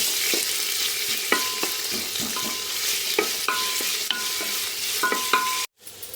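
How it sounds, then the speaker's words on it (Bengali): Chopped onion frying in a pan with a steady close sizzle, broken by a few sharp stirring scrapes and clinks, then a brief cut to near silence at the end. "পেঁয়াজটাকে আমি একটু ভেজে নেব"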